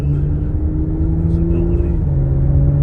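A 2022 Genesis G70 with the 3.3-litre twin-turbo engine accelerates in a steady, loud, low engine drone heard from inside the cabin, the pitch holding fairly even throughout.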